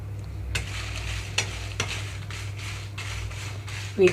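Sesame seeds and dry red chillies toast in a pan for spice powder, a soft steady sizzle broken by a handful of scraping stirs and a final metallic clink, no talking.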